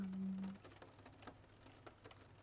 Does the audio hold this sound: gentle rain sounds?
yes